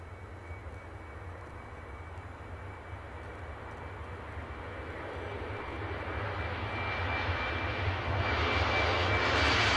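A fixed-wing airliner's engines roar steadily at Edinburgh airport in icy weather, a broad continuous rumble that swells louder toward the end as the plane draws nearer, with no talking.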